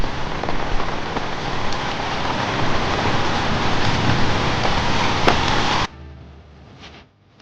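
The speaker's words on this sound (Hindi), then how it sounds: "भैया बारिश और तेज होती जा रही है।" Heavy rain pours steadily onto a street in Bangkok, a dense, loud hiss for about six seconds before dropping abruptly to a much quieter patter.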